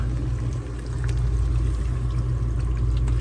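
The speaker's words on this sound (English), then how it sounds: "I'm going to add some water to that." Water is poured into a cooking pot in a motorhome kitchen, a steady continuous gush with a low rumbling undertone, close and alone with no talk.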